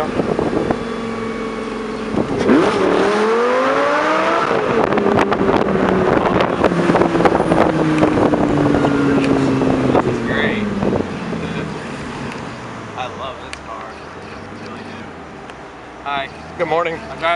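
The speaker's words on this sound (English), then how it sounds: "I gotta drop it down here and go a little bit." A Lamborghini Gallardo on the streets of South Beach revs hard, its engine note sweeping upward, then settles into a long, steady drone that slowly falls away. Wind buffets the microphone, and people talk over parts of it.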